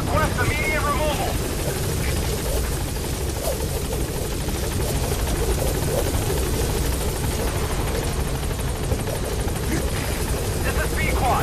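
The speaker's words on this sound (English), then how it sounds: "Support helicopter has arrived." Support helicopter arriving in the video game Metal Gear Solid V, a loud, steady rotor roar with a thudding low churn filling the whole stretch, while a radio voice talks over it.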